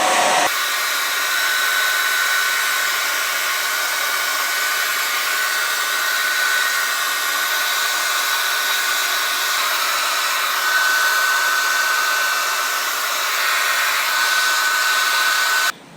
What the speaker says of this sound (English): take a hair dryer and just put it on low